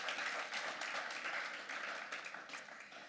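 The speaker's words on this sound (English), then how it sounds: "And let's give them another round of applause for that wonderful performance of Mr. Cosme of our national anthem." Applause from the audience at a student government induction ceremony after the national anthem is performed; dense, steady clapping throughout that tapers slightly toward the end.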